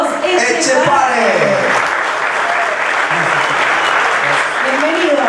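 Conference audience at a national producers' congress applauds loudly to welcome a presenter, a thick steady clapping wash, with voices briefly audible over it at the start and end.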